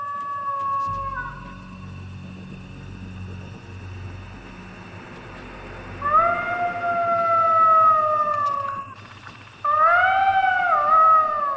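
Recorded jackal howls played from a megaphone at night, long wavering rising and falling wails in several bursts, loud and close, with pauses and a low rumble between them.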